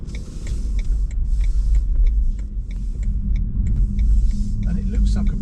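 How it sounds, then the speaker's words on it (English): Heavy road traffic makes a steady, loud low rumble that carries on without a break, with faint higher clicks and tones above it. "Oh, a lot of traffic."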